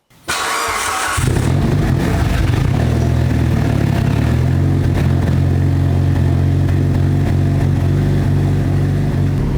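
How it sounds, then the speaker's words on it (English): A Mitsubishi Evo with a fuel leak cranks briefly, fires up and settles into a loud, steady, rumbling idle that continues close by without any talk. "we'll get in the car, start it up, and we'll take her for a little stroll"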